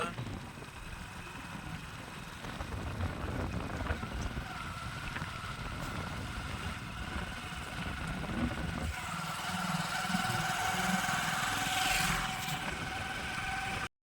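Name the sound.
motorcycle engine as riders set off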